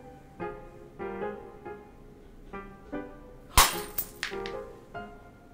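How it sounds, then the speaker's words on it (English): A statue breaking in the game Marcella Moon: Curse of the Black Cat: one sharp, loud crack followed by brief clinking debris, set against soft rhythmic background music. "fell into the statue and broke it"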